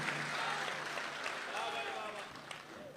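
A poetry recital audience claps in a steady wash of applause, with voices calling out over the clapping throughout.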